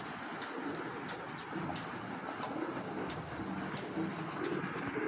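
Racing pigeons coo repeatedly in soft, low, throaty phrases over a steady background murmur.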